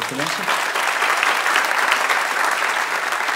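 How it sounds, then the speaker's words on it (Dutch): An audience at a talk on the future of communication applauds steadily, a dense sustained clapping heard throughout at close range. "Nogmaals even applaus voor Kirsten"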